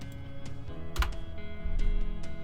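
Rapid, close clicks of typing on a computer keyboard while entering shell commands, quiet and uneven keystrokes over a faint steady hum, with no talk.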